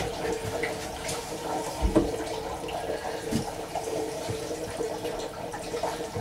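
Water runs from a Shurflo pump in a DIY travel trailer with a steady, moderate gush and splash, plus a few knocks and clunks, and no one speaks.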